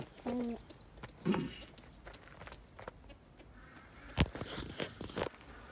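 Tumbler pigeons in their new coop give soft coos and scattered chirps, with occasional footsteps and a sharp knock nearby, all fairly quiet.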